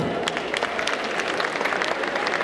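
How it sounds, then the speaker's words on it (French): Audience applause for two volunteers at a hypnosis stage show at a French convention, a steady dense patter of claps filling the room with no break. "On peut les applaudir"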